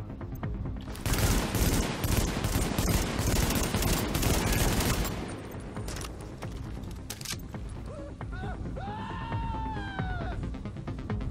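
Gunfire in The Division, loud rapid automatic bursts for about five seconds, then scattered shots with other game sounds and rising whine-like tones, no talking.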